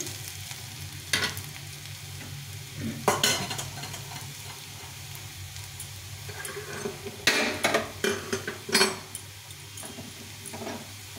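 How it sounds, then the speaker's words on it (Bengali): Onions sizzle steadily as they fry in a pan for an egg curry, with intermittent scraping and clattering stirs of a spatula, close and moderately loud, no talking. "পেঁয়াজটা লাল লাল করে ভেজে নিয়েছি।"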